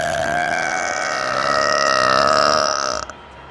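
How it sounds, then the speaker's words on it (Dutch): A loud, long burp from a cartoon baby rumbles for about three seconds, sustained and close, then cuts off abruptly with no talk over it. "Wow, dat is een boer."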